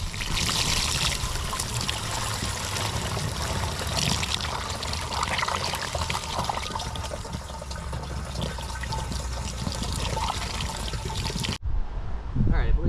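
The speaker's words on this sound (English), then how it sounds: "we're gonna go put some water in this so I can give it a shot" Water is poured into the tank of a Proyama backpack fogger, a steady close rushing trickle that runs for about eleven seconds before cutting off abruptly near the end.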